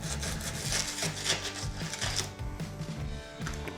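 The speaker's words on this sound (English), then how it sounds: "I'm gonna go ahead and just start chipping more away." Old model railway track being chipped and scraped away from a layout base, a close, busy series of rough wooden scraping and crunching strokes without talk.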